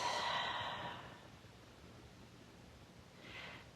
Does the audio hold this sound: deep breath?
yes